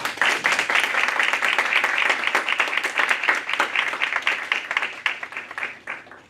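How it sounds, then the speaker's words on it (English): A symposium audience applauds panelists at a panel on democracy, producing dense, steady clapping that tapers into scattered claps near the end. "Let's give them a big round of applause."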